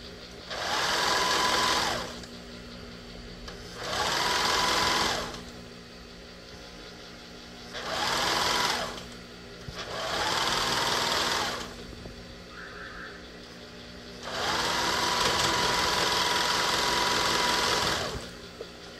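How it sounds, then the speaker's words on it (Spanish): A sewing machine runs in five separate bursts of a few seconds each, stitching stretched elastic onto a peasant blouse with bell sleeves. The whirring stops and starts with quiet pauses between runs. "Lo van estirando y van cosiendo"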